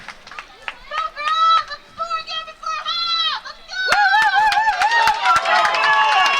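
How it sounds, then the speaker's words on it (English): Crowd of spectators at a Belmont girls' varsity rugby final against Lincoln Sudbury, with high excited children's and girls' voices shouting and cheering continuously, swelling louder and denser toward the end. "Belmont crowd urging the girls on"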